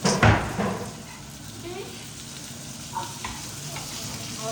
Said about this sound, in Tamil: மீனை பொரிச்சாச்சு